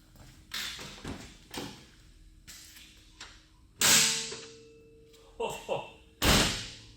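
Several sharp metallic clunks and thumps from a stuck Toyota Tacoma hood latch, one loud pop in the middle as it opens, followed by a few more clacks, with a voice talking between them.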